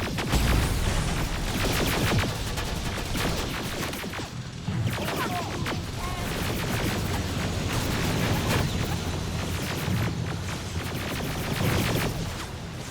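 Sustained covering gunfire in the Terminator: Resistance video game, a dense and loud barrage of rapid shots and crashing impacts that runs for the whole stretch without letup.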